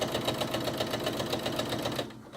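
A sewing machine stitches across the flap of a drawstring backpack, a fast rapid rhythmic chatter close by, stopping abruptly near the end.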